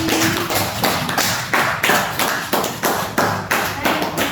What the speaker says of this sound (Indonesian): Kasih tepuk tangan buat Mbak Yuni